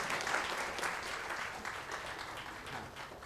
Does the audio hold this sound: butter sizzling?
no